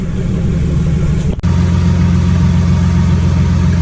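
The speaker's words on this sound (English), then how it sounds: "Everything's working. So, turbos are spinning." A twin-turbo V6 engine runs at a steady idle, its low, even drone continuous and close, with a brief dip in the sound partway through.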